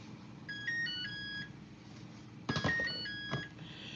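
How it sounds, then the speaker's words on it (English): A kitchen timer by a stove sounds a quick melodic run of electronic beeps, then a second burst of beeps, moderately loud over a quiet room hum. "That's the timer."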